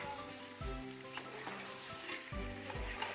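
Biryani masala and potatoes with lemon juice sizzle and fry steadily in a pan, with a soft constant crackle and an occasional clank of a utensil stirring the mixture.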